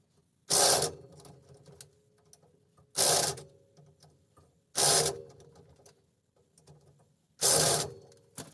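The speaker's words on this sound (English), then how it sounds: "we're going to tighten up all these other studs with the impact driver" Impact driver tightening wheel adapter studs, firing in four loud, separate bursts of about half a second each, with quieter mechanical rattling between them.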